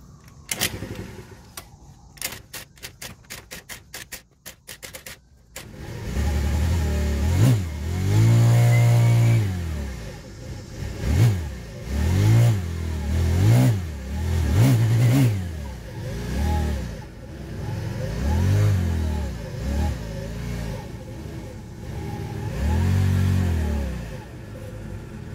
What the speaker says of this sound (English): I'm trying to hold the throttle in just one place